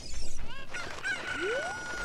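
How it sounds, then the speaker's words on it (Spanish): Chickens in Zelda Ocarina of Time, a few quick clucks and squawks followed by a rising whistling game tone, loud and close, with no talking. "O sea, tiré dos gallinas por ahí."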